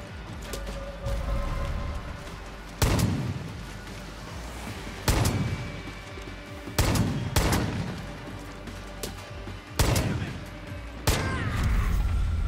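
Gunshots in Far Cry: New Dawn ring out as six sharp, loud single blasts spaced a second or two apart, each with a booming tail, over a steady bed of game ambience.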